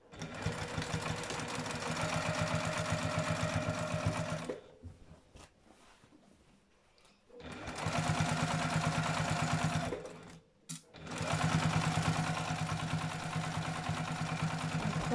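A sewing machine stitches a chair cover in three runs of rapid, steady mechanical whirring, close and fairly loud, broken by a longer pause and a brief stop.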